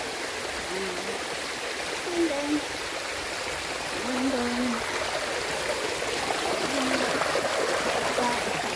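A stream flows with a steady rushing wash of water while a person speaks briefly over it and some faint birdlike chirps come through.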